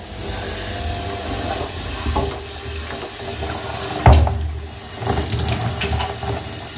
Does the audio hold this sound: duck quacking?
no